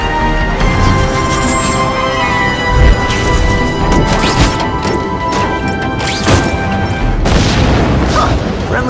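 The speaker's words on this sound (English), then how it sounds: "friendly neighborhood fireworks." Booming firework blasts and crackling bursts from The Amazing Spider-Man 2 video game, dense and loud throughout, with repeated explosive hits layered over a rumbling, noisy backdrop.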